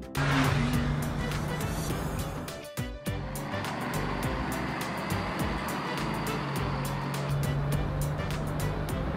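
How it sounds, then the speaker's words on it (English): A toy truck from a children's vehicle play set drives along outdoors, with a steady motor-like whir and rumble, a brief dropout partway through, and rapid light clicking that carries on to the end. "Guys, it's a truck."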